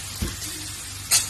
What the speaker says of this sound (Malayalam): എന്നിട്ട് നന്നായി ഹൈ ഫ്ലെയിമിൽ തന്നെ വഴറ്റിയെടുക്കുക.